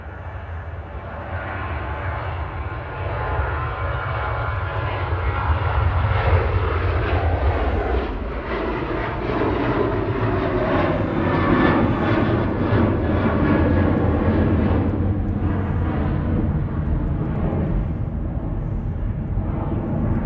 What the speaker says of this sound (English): Ryanair to Alicante there, EIDHX, flight 2070.